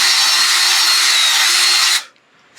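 Power drill boring 3/8 inch holes, a loud steady high-pitched whine with grinding for about two seconds before it abruptly stops, close up and alone.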